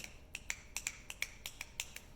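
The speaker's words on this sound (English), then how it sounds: "So we're gonna start by snapping our fingers." A string of soft, sharp finger snaps at an irregular quick pace, fairly quiet and close, with no voices.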